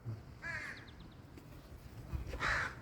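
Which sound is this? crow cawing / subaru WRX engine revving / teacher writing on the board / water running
crow cawing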